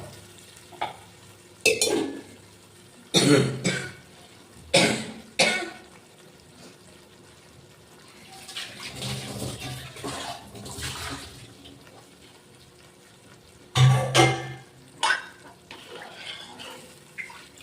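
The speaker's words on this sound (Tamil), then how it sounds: "மறுபடியும் கொஞ்சம் தண்ணி ஊற்றிக்குவோம்." Water is poured into a pot of rock fish curry during home cooking. A soft, gushing pour of a few seconds sits between sharp clanks and thuds of utensils against the pot.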